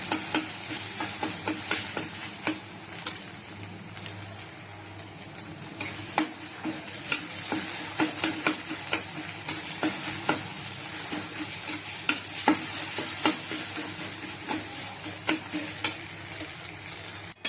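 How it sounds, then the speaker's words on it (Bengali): Egg frying in a pan with potatoes that were fried first, a steady close sizzle broken by frequent sharp scrapes and clicks of a spatula stirring against the metal, running unbroken with no talk. "ডিমটা ভালো করে ভেজে নেবো, ভেজে নিয়ে তারপর আলুগুলো এড করে নেবো"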